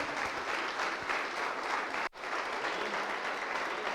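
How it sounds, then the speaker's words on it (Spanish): A church congregation at a Sunday service claps in loud, sustained applause that cuts out sharply for an instant before continuing just as strongly. "Denle un fuerte aplauso al Señor."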